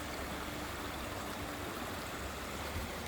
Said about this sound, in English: The water's flowing so beautifully right now.